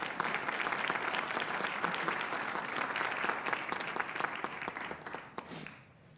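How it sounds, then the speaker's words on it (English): Applause at a Board of Supervisors meeting, a room of people clapping with distinct individual claps audible, sustained for several seconds before fading out at the end. "Would everyone please give a round of applause for Mr."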